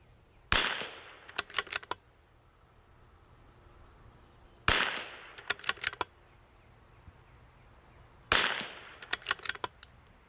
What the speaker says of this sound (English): Shoot the next one to the right.